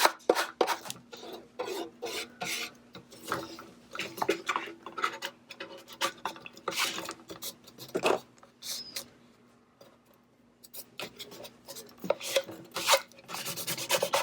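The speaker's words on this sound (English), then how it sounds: "I'm going to put this in the middle, and then just scrape my way down." A scraper is drawn repeatedly across vinyl decal sheet in short rasping strokes, close and fairly loud, in an irregular rhythm with brief pauses.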